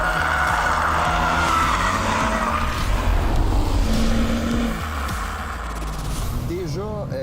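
A Genesis G70 sedan accelerates hard, its engine note rising and holding loud and close from inside the cabin, then easing off toward the end with some tire noise, and no talk over it.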